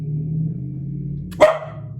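A dog gives one sharp, loud bark partway through, rising above a steady low background hum before things settle again.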